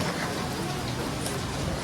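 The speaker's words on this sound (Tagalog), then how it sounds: "Lalo na yung umuulan." Steady rain falling outside a Starbucks in Taiwan, a dense, even hiss of drops on hard surfaces with no pauses and no voices.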